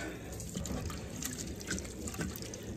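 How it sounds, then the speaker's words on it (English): Black cohosh roots being dumped and swished in water, a soft splashing and trickling with small drips, fairly quiet and close, with no talking. "you just want to take your roots, dump it over in that water"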